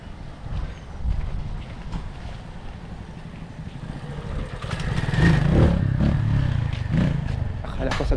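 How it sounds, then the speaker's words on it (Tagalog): Motorized tricycles pass along a street, engine noise swelling and peaking as one goes by close, with a person talking over the steady traffic rumble. "maraming mga tricycle dito"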